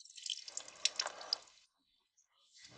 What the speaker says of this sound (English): we'll let all the water drain out here